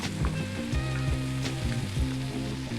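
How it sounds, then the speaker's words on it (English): Squash sizzles hard in a hot pan while being sauteed at high heat for an Asian dish, a steady loud frying hiss with rhythmic stirring knocks. "With Asian food, you really need a high temperature if you're going to be sauteing to get your vegetables nice."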